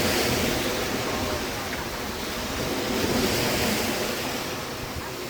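Choppy sea waves wash against a beach at Tsilivi on Zante, Greece. A continuous, loud roar of surf mixes with gusty wind buffeting the microphone, with no clear break in the noise.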